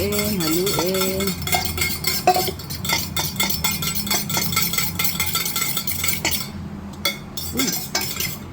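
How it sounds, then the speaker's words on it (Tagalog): Spoon stirring a spoonful of honey into iced tea, light repeated clinks and scrapes against a cup or glass, close up over low background hum. "May isang kutsarang honey. Haluin, haluin, haluin."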